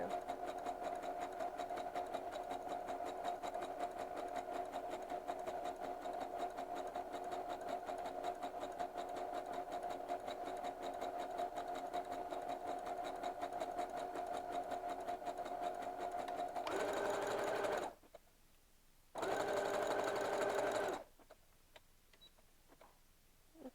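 A Brother sewing machine stitches at its slow setting in a steady, continuous mechanical whir with a regular needle rhythm, running close and alone for most of the stretch, then stopping, restarting briefly and going quiet.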